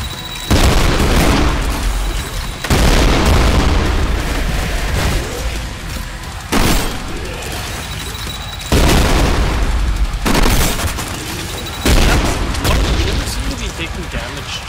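Heavy explosions and bursts of gunfire from the shooter video game Trepang 2, with several loud booming blasts in repeated waves, each followed by decaying rumble and crackle, with talk faintly underneath.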